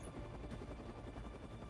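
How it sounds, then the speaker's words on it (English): A helicopter in the mech strategy game Mecharashi: a steady, dense rotor drone, faint and continuous, with no talking. "And keep taking out the helicopter, Caden."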